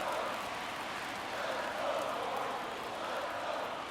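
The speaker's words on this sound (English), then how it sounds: "They're chanting, "Let's go Cardinals, let's go."" A stadium crowd in the baseball video game MLB The Show 23 chants for the Cardinals, heard as a steady, fairly faint roar of massed voices that carries on without pause and with no commentary over it.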